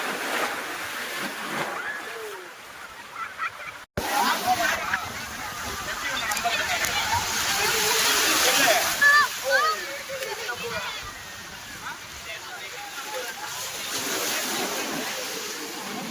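Ocean waves wash and break continuously on a beach over a broad roar of surf, with a person talking over the water noise throughout.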